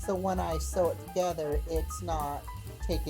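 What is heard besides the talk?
None of the usual background noises is heard.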